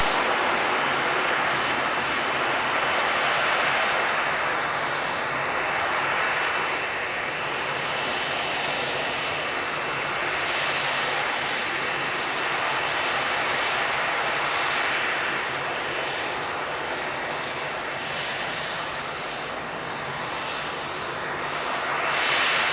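A general aviation plane takes off at Spirit of St. Louis Airport, its engine drone steady and loud for the whole stretch, with broad roaring noise that swells and eases slightly with no talk.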